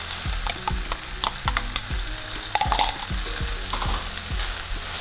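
Meat pie filling cooks in a pan while being stirred, giving repeated scraping strokes over a steady low sizzle, close and fairly loud, with no talking.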